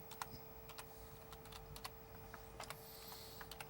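Rapid, irregular clicking of typing on a computer keyboard, with scattered sharp keystrokes over a steady low hum, fairly quiet and close.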